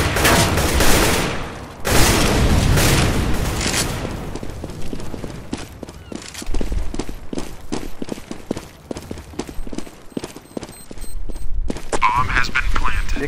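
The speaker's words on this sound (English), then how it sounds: "Throwing smoke. Grenade out. Deploying flashbang." Rapid, dense gunfire in Counter-Strike GO on the Seaside map rattles almost continuously, loud and close, with a flashbang grenade among the shots and sharp cracks carrying on to the end.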